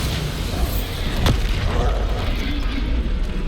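A Bombarda spell explosion in Hogwarts Legacy lands as a single sharp blast about a second in, then fades into a low rumbling game ambience.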